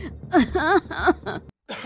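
Harsh throat clearing and coughing, a few close rasping bursts with a short pause, set off by chilli smoke from a dal tempering filling a house.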